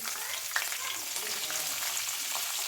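Steady frying sizzle of peanuts, urad dal, cumin and green chillies in oil in a pan for lemon rice, with a light stir partway through.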